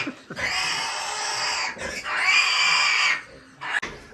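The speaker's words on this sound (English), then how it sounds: "these pigs are making a right racket" Pigs on a rainy farm squeal loudly at feeding time, a sow with growing piglets: two long, shrill, continuous squealing bursts close by, separated by a brief pause and ending in a short final squeal.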